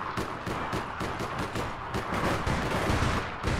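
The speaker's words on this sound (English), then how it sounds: "Getting shot from my own teammates." Dense, continuous gunfire from teammates in the online shooter APB Reloaded, a steady rattle of rapid shots with a few louder bursts toward the end, with no talk.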